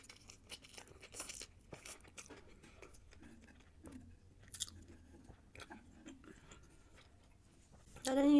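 Caterpillar and spider sushi rolls are chewed close to the microphone, soft wet munching with occasional crunches of tempura, quiet and intermittent, louder rustling at the end.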